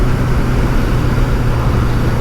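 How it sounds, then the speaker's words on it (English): Smooth, loud engine drone from a BMW K100LT motorcycle with sidecar, its car-like engine humming steadily at speed on a country ride near Lake Cargelligo, with heavy wind rush and no talking. "they're a car engine virtually, which is why they sound a bit strange"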